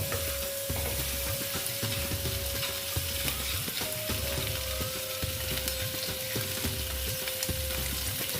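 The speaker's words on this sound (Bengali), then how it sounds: "দেখো ভালো মতো ডিমটা লাল লাল করে ভেজে নেব" Eggs sizzle and fry steadily in a hot pan for an Afghani-style egg curry, a continuous dense crackle with faint periodic scraping and clicks throughout.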